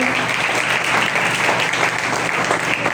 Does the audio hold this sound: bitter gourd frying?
no